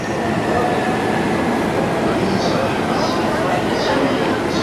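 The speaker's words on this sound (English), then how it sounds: "Local trains wait for the express trains." Trains at a busy station in Tokyo, with local trains waiting for express trains, give a steady loud rumble of rail noise and station ambience throughout, with faint high squeals and announcements under nearby talk.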